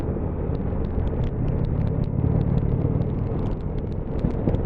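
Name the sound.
Indian Chieftain 2019 motorcycle two-cylinder 1.8 engine thumping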